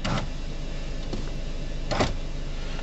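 A car's electric window motor whirs in short strokes, a brief hum followed by a couple more quick pulses, close by.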